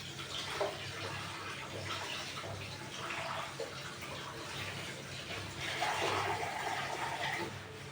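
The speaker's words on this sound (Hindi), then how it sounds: "ये देखिए अब इसका पूरा पानी निकालने का है।" Water drains and splashes steadily into a kitchen sink while a Sindhi-style milk sweet is being made, a continuous rushing pour at moderate volume with no talk over it.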